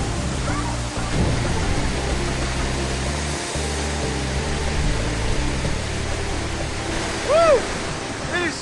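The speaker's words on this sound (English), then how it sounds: "It is so forceful underneath that waterfall" A waterfall at the headwaters of the Siem Reap River roars with steady broadband rushing, loud and close. A faint voice or whistle rises near the end.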